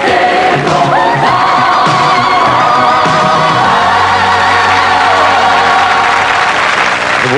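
A TV studio audience applauds loudly and steadily for a guest, with whoops and cheers rising over a dense wall of clapping under music-like tones.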